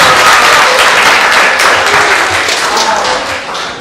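Wedding guests give a speech another round of applause. The clapping is loud and close, a dense wash that holds steady before fading slightly toward the end.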